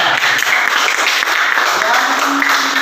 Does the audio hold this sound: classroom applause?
yes